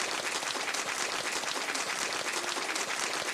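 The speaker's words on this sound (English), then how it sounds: "Thank you so much for that generous applause." Steady, dense applause from a large audience, continuous broadband clapping at a loud, even level throughout.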